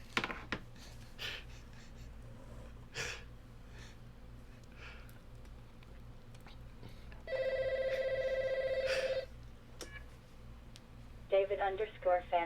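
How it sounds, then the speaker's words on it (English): A telephone rings once in a steady electronic tone lasting about two seconds, clear and fairly loud, with breathing, scattered clicks and brief rustles around it and a short chirpy electronic burst near the end. "We want to hear the phone ring."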